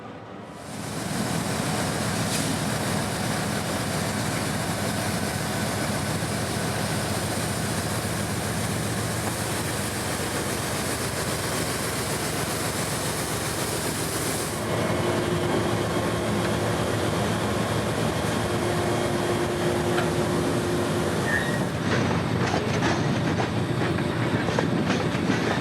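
An empty CSX potash freight train rolls past on the Tampa District with a steady, loud rumble of railcars and rhythmic clickety-clack wheels that runs the whole length, with no voices.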